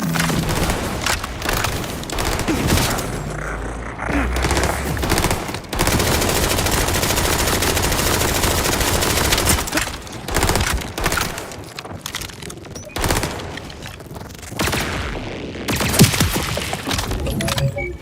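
Gunfire in the video game Borderlands 4, dense and loud, with sustained bursts and shots running almost continuously and brief lulls between volleys.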